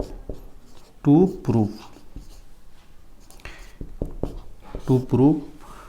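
Marker or chalk strokes tap and scratch on a board during a geometry lesson on lines and angles. The short strokes come in bursts, with a teacher speaking over them.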